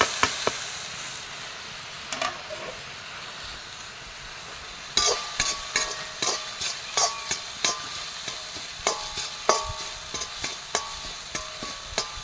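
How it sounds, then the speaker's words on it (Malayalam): Coconut heating in ghee in a pan, a low sizzle at first with occasional stirring taps, then a brighter crackling fry with frequent spoon scrapes and clinks, close and moderately loud without speech. "ശേഷം കൂടെ നെയ്യ് ഒഴിച്ചിട്ട് നമ്മൾ ഈ തേങ്ങയൊന്ന് ചൂടാക്കിയെടുക്കാം."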